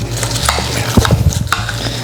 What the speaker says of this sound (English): So we're going to mix these all in.